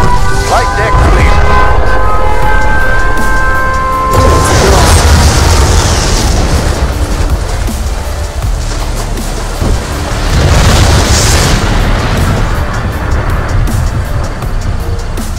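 Nuclear missile detonating in Command & Conquer Red Alert, heavy rumbling booms that swell and roll over a dense continuous roar, loud and sustained, with a brief tonal game alert sound at the start.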